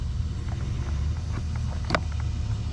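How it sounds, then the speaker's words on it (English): A variable speed HVAC blower motor, being tested in a flooded setting, runs as a steady low rumbling drone with a faint airy hiss and one brief click partway through. "the motor is coming on with a call for G and cooling 2"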